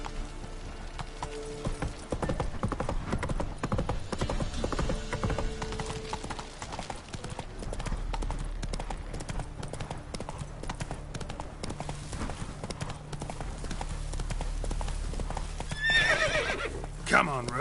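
A horse gallops with rapid clip-clop hoofbeats and whinnies in a PS4 video game, set against a constant bed of game music and ambience that runs throughout.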